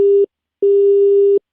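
A steady phone busy tone: two flat beeps, a short one then a longer one, separated by silence.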